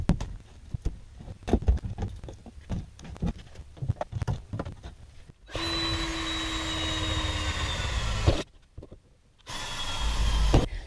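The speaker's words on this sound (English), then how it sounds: "I'm going to drill a couple little pilot holes from in here so that I can see where this line is exactly" A power drill bores pilot holes through a school bus roof from the inside during a roof fan installation. A loud, steady whine runs for about three seconds, cuts off, then starts again, after a stretch of scattered knocks and clatter.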